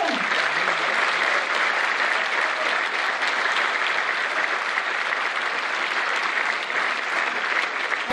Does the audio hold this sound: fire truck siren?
no